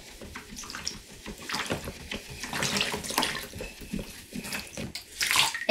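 A drill-driven 3D printed jet drive with a 50mm nozzle churns and sprays water in irregular splashing bursts, close and moderately loud.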